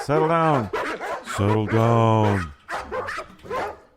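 Dogs indoors bark and yip in several loud, close bursts over a few seconds, with whining, voice-like tones between barks.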